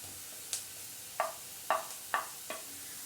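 Ginger-garlic paste frying in a pan with lightly browned onion for aloo chop, a spatula scraping in five short, distinct strokes over a faint, quiet sizzle.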